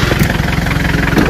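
A vehicle engine idles with a steady low rumble as it pulls up on a rough mountain road in Kashmir, Pakistan, with voices talking over it throughout.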